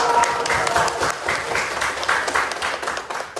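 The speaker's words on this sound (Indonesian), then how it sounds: "Kasih tepuk tangan yang mulia" Listeners at a teacher training session clap after the closing remarks, a lively, fairly near round of applause with distinct individual claps pulsing through it, holding steady for the whole stretch.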